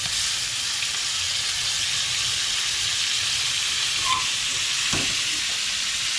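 Fillet steak sizzling in a hot pan right after being flipped, a close, steady hiss that runs on evenly with a few faint clinks.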